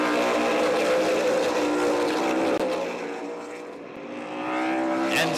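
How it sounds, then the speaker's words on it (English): Race cars roaring around Columbus Motor Speedway, a loud continuous engine drone that dips and swells as cars pass on the oval. "Seneker trying to lap Jimmy Carter, who was one of the possible threats to win today"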